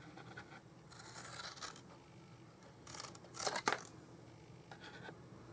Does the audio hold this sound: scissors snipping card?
yes